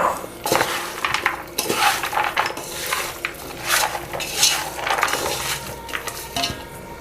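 Three finely chopped onions go into a pan and are stirred, with a spoon scraping and clinking against the metal and soft sizzling underneath, loud and close in a busy, irregular rhythm without speech.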